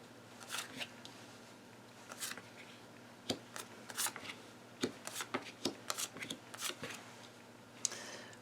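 Playing cards are dealt one at a time, giving quiet, near, crisp flicks and snaps spaced irregularly over a faint steady hum.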